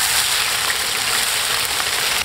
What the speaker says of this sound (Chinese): 下入炒料